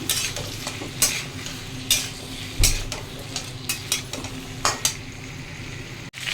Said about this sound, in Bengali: এখন আলুটা ভাজা হোক, তারপর ফিরে আসছি